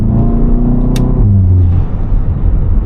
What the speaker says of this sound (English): You can also hear a lot more of the blow off noise from the engine bay.